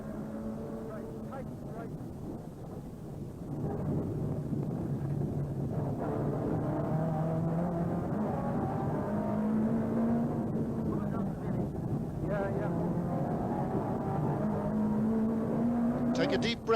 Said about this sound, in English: Louis is well aware that the Manta is behind him, but it's not easy to find an overtaking place in a back road in Donegal.